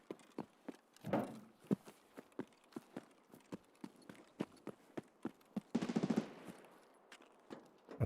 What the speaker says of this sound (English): That's an unsuppressed AK-12.